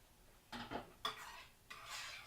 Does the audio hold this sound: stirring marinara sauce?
yes